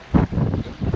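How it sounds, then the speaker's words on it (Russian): Strong cold wind during a severe storm on the Taman coast, roaring and buffeting the microphone in uneven, rumbling gusts across a short stretch, with no voices. "человек уже бессилен перед этим ветром"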